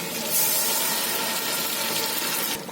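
Water pours steadily into a bowl with a continuous splashing rush that holds at an even level, then cuts off near the end.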